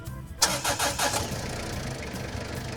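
A UTV sun buggy's engine cranks and catches after a key turn, a short sputtering start that settles into a steady mid-pitched idle, close and clear.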